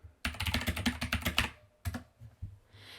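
Rapid keystrokes clatter on a computer keyboard as a file name is typed, a quick close burst of clicks, a pause, then a few more taps.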